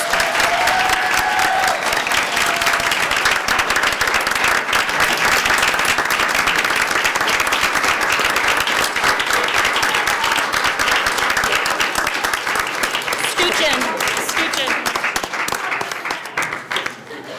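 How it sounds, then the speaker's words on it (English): At a school board meeting, an audience gives a group of students a long, loud round of applause, dense, even clapping sustained for over fifteen seconds before it begins to thin out at the end. "So now we can give these group of students a big round of applause."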